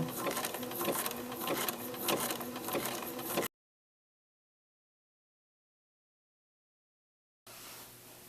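A sewing machine runs a zigzag stitch on an applique, its fast rhythmic whirring and clatter close and steady, then broken by a stretch of silence before the machine starts again.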